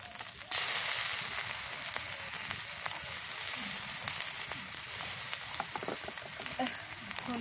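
Ground garlic and onion paste hits hot oil with fried dried fish, chilli and onion in a village kitchen, sizzling loudly and steadily up close, with faint scrapes and stirs throughout.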